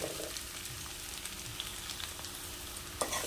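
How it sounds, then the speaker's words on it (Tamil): Capsicum, onion and soya chunks frying in a pan over a high flame, a steady soft sizzle with faint stirring scrapes and a sharper clatter near the end, close by with no talk. "அடுப்பு ஹை ஃப்ளேம்லேயே வச்சுட்டு குடமிளகாயும் வெங்காயமும் ரெண்டு மூணு நிமிஷம் நல்லா வதங்கிடுச்சு"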